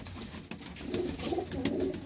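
A dabba pigeon coos in soft, low rolling murmurs that grow fuller after the first half-second, with a few faint clicks and no voices.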